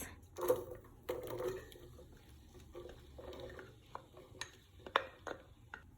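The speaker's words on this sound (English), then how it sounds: "now we are going to add our onions, fennel seeds, oregano, black pepper, red pepper flakes, and then stir to coat evenly" Onions, fennel seeds, oregano, black pepper and red pepper flakes stirred in a soup pot, giving soft, uneven scrapes and clinks of a utensil against the pot in short irregular bursts, close and moderately quiet.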